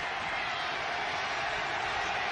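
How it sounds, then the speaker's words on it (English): Stadium crowd at a professional American football game, a broad continuous roar of many voices at a distance, steady and loud throughout, with a broadcast commentator speaking. "You hear the crowd come alive here."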